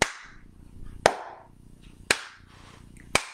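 Four crisp flat-palm flamenco palmas claras claps ring out at a steady, even pace, close up and sharp, with short decays between them in a quiet room.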